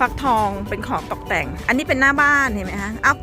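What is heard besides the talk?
None of the usual background noises is heard.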